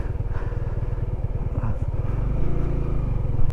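A Honda CB150X motorcycle labours up a steep mountain trail near Daldagon Peak in Siruma, its engine a low, pulsing, chugging rumble that grows slightly louder toward the end, close and continuous.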